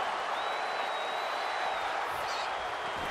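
Crowd noise at a wrestling match in WWE 2K24: a broad, steady roar of cheering and applause fills the whole stretch, loud and unbroken, with a faint whistle-like tone riding on top.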